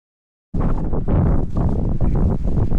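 Strong gusty wind at a paragliding site on a hillside in Cyprus buffets the microphone, a loud rough roar that starts suddenly and surges in uneven waves.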